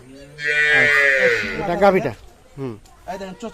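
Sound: cow mooing

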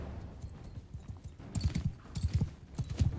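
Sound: horses galloping in the Bannerlord video game

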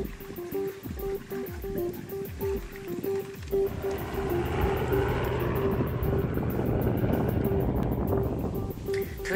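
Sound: helicopter flying overhead

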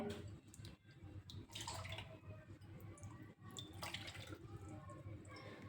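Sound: pouring measured water into dal

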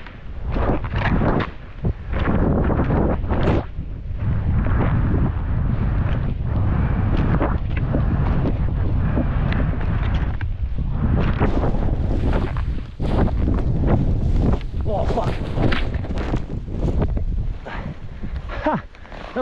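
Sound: wind blowing on a ski slope

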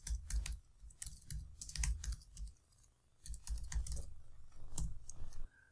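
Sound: typing text on a computer keyboard

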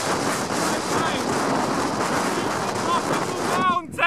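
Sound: strong wind on a mountain

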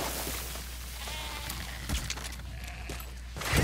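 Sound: goat bleating in video game Metal Gear Solid V

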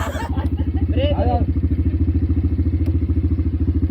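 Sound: sports motorcycle being ridden

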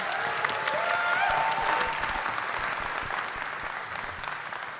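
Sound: audience applause for an author at a panel

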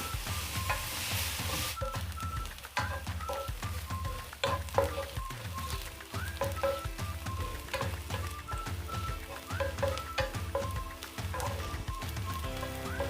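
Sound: frying onions with green chillies until brown

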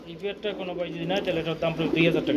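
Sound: white Lakka pigeons cooing at a pigeon market

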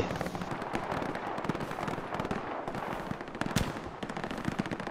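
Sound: gunfire from an enemy shooter in a video game

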